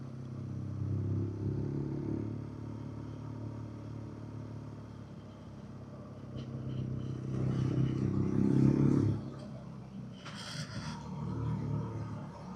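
A BMW R nineT Urban G/S motorcycle with exhaust baffles removed rumbles at idle, swelling into a louder throaty exhaust blip midway before settling back to a steady low burble.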